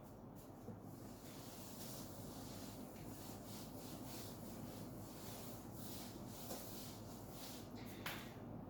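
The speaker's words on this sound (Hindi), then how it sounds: "इसको मैं रब कर देता हूं यहां पर।" Steady rubbing of an eraser or duster across a board during a physics class, a continuous dry scrubbing hiss at moderate level that runs without pause for several seconds, with no talking over it.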